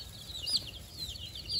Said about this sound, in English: It's a pretty chicken. It's a Creole